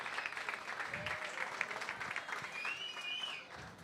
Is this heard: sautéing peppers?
no